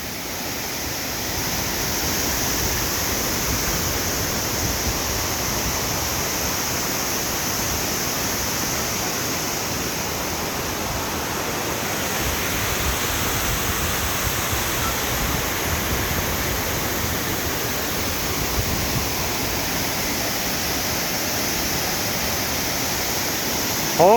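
Las Brisas waterfall in Oaxaca, Mexico roars as a steady, loud broadband rush of falling water, unbroken and constant from start to finish with no other sounds standing out.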